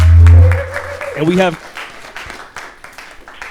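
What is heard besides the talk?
audience applause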